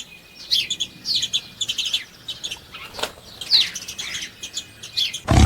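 A sparrow chirps in quick, bright bursts of short tweets, close and clear, repeated in an uneven rhythm across several seconds with a brief wing flutter near the end.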